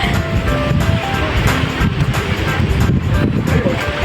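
Strong typhoon wind roars and buffets loudly against the microphone in Taoyuan, a constant rumbling gusty noise with voices partly audible underneath.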